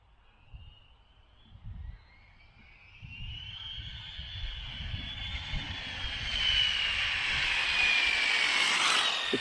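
The motor of an overgeared speed-run craft builds into a high, rising whine that grows steadily louder over low, gusty rumbling. The whine ends at its loudest, with no voices.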